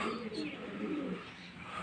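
Pigeons coo softly on a rooftop in low, throaty murmurs that continue quietly throughout the short stretch.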